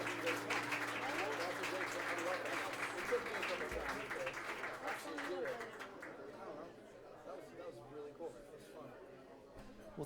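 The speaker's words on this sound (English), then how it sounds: "Too much applause for me" An audience at a brewing company venue applauds after a live song, the clapping and chatter strong at first, then thinning and fading toward the end.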